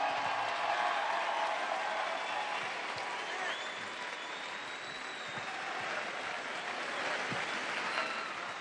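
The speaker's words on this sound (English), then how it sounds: "give you a round of applause" Audience at a football team's celebration applauding for the coaching staff's wives, a sustained, even wash of clapping from a large crowd, steady throughout with a few louder claps and cheers near the end.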